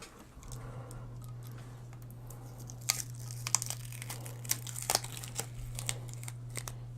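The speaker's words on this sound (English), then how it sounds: "I'm going to just kind of take the tape off of this" Tape is peeled off the packaging of an AsRock X79 Extreme4 motherboard, a run of close, crinkly tearing and crackling bursts over a steady low electrical hum.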